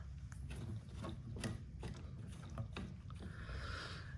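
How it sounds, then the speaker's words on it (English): Clamps are tightened by hand on a Minuteman E20 autoscrubber floor machine, giving a series of close, quiet mechanical clicks and ratcheting rattles over a low background hum. "And then all you do is tighten these clamps."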